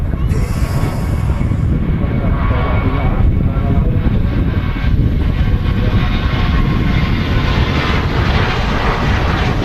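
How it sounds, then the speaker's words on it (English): A KLM Boeing 737 roars loudly and continuously at Manchester Airport as it begins its takeoff roll, a dense, close rumble of engine noise that holds steady throughout. "it goes to KLM 737, a beautiful blue aircraft"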